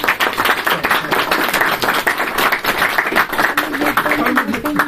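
An audience at a live poetry and talk event claps steadily for about five seconds, dense broadband applause with some voices and a brief tonal sound near the end.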